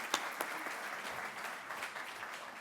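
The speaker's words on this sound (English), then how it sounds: "A round of applause, Neil." Applause from the audience at a town inauguration ceremony, a soft, fairly distant wash of clapping with a couple of sharper claps near the start, steady for a few seconds.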